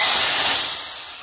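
Hot tempering poured into a pot of sambar gives a strong broadband sizzle that opens loud and hissing, then eases slightly as it settles, with no talking over it.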